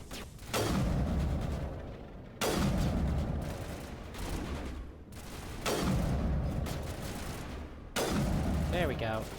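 Rifle gunfire in the sci-fi shooter Mass Effect, four or five sustained bursts of rapid shots separated by short pauses, loud and close.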